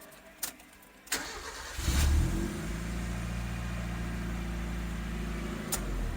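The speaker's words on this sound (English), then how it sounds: "So now, the car will start and run on the stock ECU." A car engine cranks with a few sharp clicks, then catches at about two seconds and settles into a steady, close idle on its stock ECU, with no voices over it.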